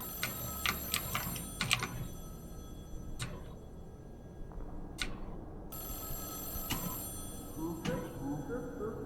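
A telephone rings inside the video game HPS1, its bright electronic trill sounding in several short bursts over a busy game soundscape with other clicks and tones.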